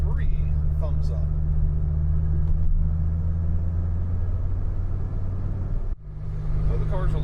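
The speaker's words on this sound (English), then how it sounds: "Though the car's a little noisy, it's not very refined." A 1996 Dodge Viper GTS is heard from inside the cabin, its engine giving a loud, constant low rumble and drone while driving, with a voice heard over it.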